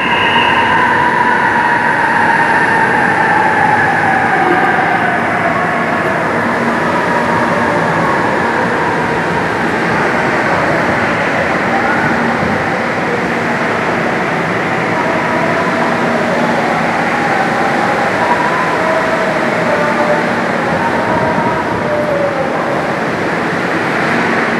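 An MRT train at Quezon Avenue Station rumbles steadily through the whole stretch, with rolling wheel noise and squealing tones that rise and fade, heard close and loud over heavy rain, with no talking.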